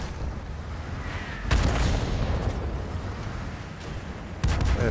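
Cannon shots from a Cromwell tank in a tank combat game, two heavy booming blasts with rumbling ambience between them.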